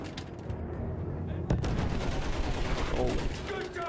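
Sustained battlefield gunfire in Battlefield 1, a steady clatter of rifle and machine-gun shots with one loud close blast, and voices talking over the din.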